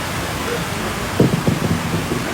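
Dense rain hisses steadily over a flooded street, with a short burst of louder pattering or splashing in the middle; no voices stand out.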